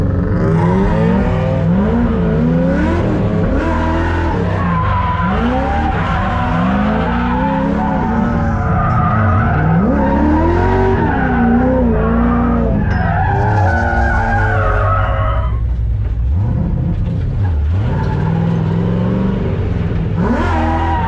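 Race car driven hard on a track during a championship weekend, engine revving and wailing through gear changes with repeated tire squeals and skids, loud and close throughout with no talk.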